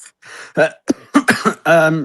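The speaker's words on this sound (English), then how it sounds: "Apart from the cough, which I'll try and keep under control." A few short, harsh coughs and throat-clearing bursts, close and fairly loud, separated by brief pauses.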